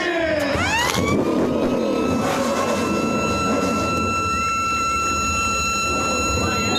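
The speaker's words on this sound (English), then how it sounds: "Drivers, start your engines!" EuroNASCAR stock cars fire up their engines at the start of a race at NASCAR GP Italy 2023, bursting into loud revving that then settles into a sustained roar under a race commentator's voice.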